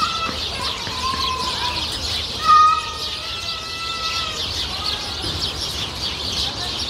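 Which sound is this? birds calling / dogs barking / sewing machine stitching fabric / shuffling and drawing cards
birds calling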